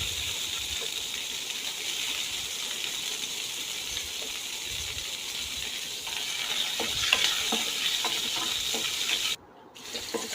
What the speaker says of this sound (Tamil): கொஞ்சம் சின்ன வெங்காயம் சேர்த்து அதையும் நல்லா வதக்குறோம்